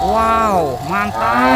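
A toy cow gives a loud, drawn-out moo that rises and falls in pitch, followed by a second shorter moo, close and clear under a person exclaiming over it.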